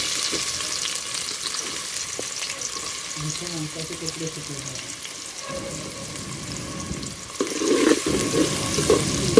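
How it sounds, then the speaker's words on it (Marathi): Onions tossed into a hot pan of garlic for a chicken and crab curry cooked on a wood-fired stove, giving a steady frying sizzle that swells near the end, with a brief voice partway through. "आता आपण कांदा टाकूया"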